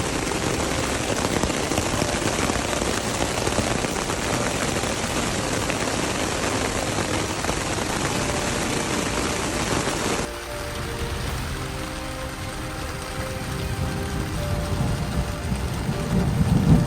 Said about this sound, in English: Was insane wind and rain last night and hail for the most I've ever been in.